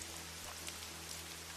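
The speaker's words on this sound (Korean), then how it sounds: "오전에는 맑고 화창하던 날씨가 오후가 되어서는 스콜성 폭우가 쏟아지기" Steady hiss of a heavy tropical squall downpour in Bangkok, dense rain drumming on surfaces, constant and unbroken, with no voices.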